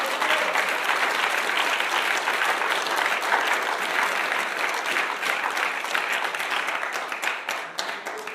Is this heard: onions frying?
no